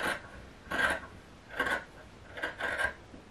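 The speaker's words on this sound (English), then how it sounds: "the next thing we're going to do is we're going to trim this off" Scissors trimming knit fabric at a sewn dart: four rasping snips in an uneven rhythm, close and fairly faint, with no talking.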